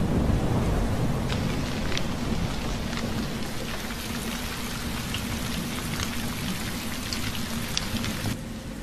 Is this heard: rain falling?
yes